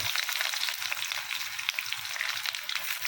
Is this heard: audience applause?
no